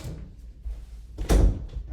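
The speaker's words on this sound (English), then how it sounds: "so the door is closed" A room door is pushed shut in a clinical assessment setting, giving one solid thud with a brief rattle near the middle, close and moderately loud against quiet room tone.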